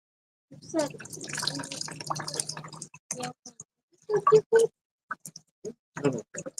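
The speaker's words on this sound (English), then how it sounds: "I have to kind of rinse one half then the other." Water poured from a pitcher rinses long hair during an outdoor medieval-style hair washing at Pennsic; a steady splashing pour runs for about two and a half seconds, then gives way to scattered drips and a few short splashes.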